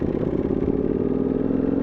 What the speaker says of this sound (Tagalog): Kusang umaandar yung motor ko.